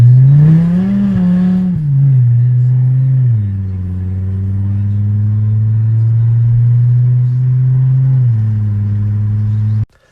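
A 900-horsepower car fitted with NOS bottles roars at a loud, steady, close pitch, rising briefly early on, then settling into a sustained drone before cutting off abruptly at the end.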